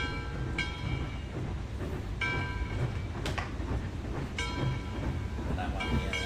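A train rolls past close by near a railroad museum at a track wye, giving a steady rumble and rail noise with recurring screeching tonal squeals from the wheels throughout.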